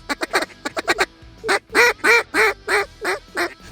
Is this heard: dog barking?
no